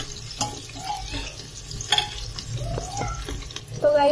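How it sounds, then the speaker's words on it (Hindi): Onions being stirred and browned in a pan while making vegetable biryani; soft frying crackle runs throughout with scattered scraping clicks of a spoon, moderately quiet and without voices. "अब हम इसे चला देंगे और इन्हें भी अच्छे से ब्राउन होने देंगे प्याज को।"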